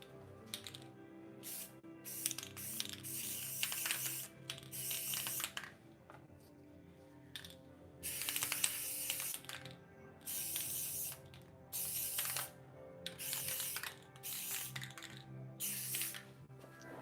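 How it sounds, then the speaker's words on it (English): Krylon Fusion flat clear coat sprayed from an aerosol can onto a painted Spider-Gwen figure, heard as repeated hissing bursts of a few seconds each with short pauses between, over a faint steady background hum. "So let's clear coat this bad boy real quick."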